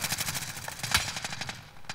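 Rapid automatic gunfire and sniper shots crack in the video game Warzone, dense bursts of shots in quick succession, fairly loud with no voices over them.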